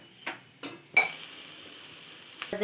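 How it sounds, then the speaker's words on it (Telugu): Ivy gourd (dondakaya) fries in a pan and is stirred, a few sharp scrapes and clinks of the spatula followed by a steady sizzle, with more scraping at the end and no speech. "ఇలా కలుపుకుంటూ ఉండాలి"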